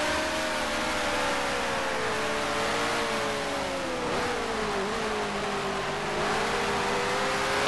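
A racing car engine in Grand Prix Legends holds a steady high drone, its pitch dipping and rising gently as the car works through gears and corners, loud and continuous with no talk.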